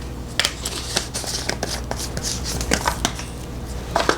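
A spice jar shaken to settle and mix seasoning for an all-purpose blend, giving a run of quick, close, crisp rattling bursts in an irregular rhythm, heard alone.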